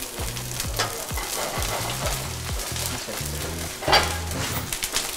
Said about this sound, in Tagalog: pag sauteing naman, medyo mainit naman yung pan niya, kaya okay lang yan